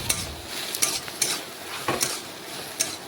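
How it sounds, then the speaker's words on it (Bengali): Bottle gourd and potato sautéed in their own released water for a sabzi with mung dal vadi, a soft bubbling sizzle broken by regular clacks and scrapes of a spatula against the pan, close and without voices. "ওই লাউয়ের জল দিয়েই কিন্তু ভালোভাবে কষে নিচ্ছি"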